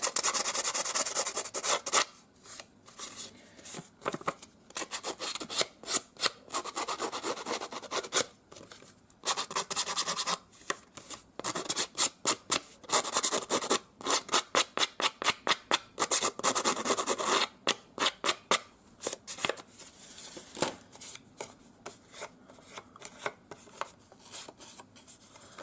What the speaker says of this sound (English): use the scissors.